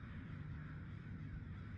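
A crow caws in the video game Summer of '58, harsh and steady over a low rumbling background, fairly close and alone with no talk.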